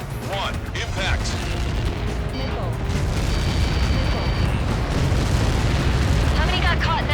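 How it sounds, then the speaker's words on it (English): A large explosion from Helios projectiles in Ace Combat 7 rumbles heavily and continuously beneath radio chatter and background game music, a sustained booming roar rather than a single sharp blast. "How many got caught in that explosion?"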